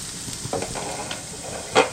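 Raw banana thalipeeth cooks in a pan with the lid just lifted, a soft steady sizzle with a few light clinks and a sharper hiss burst near the end, no talk.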